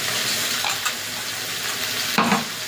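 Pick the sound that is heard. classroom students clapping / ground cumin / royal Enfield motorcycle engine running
ground cumin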